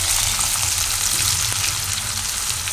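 Curry leaves frying in hot oil, a dense continuous sizzle and crackle, close and steady, with faint low kitchen hum underneath.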